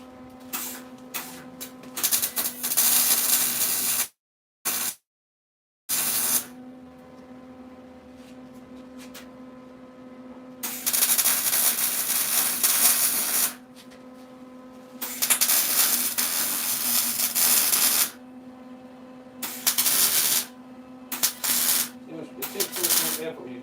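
A loud, harsh mechanical whine of a drill grinding through the rusty metal roof of a 1967 Pontiac Firebird, running in long bursts separated by brief pauses and quieter stretches.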